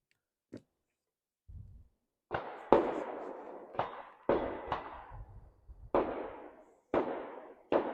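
A string of sharp, loud cracks and thumps from rifle fire with a Begara B14 HMR in .300 PRC, each bang trailing off briefly, interrupted by quieter handling knocks.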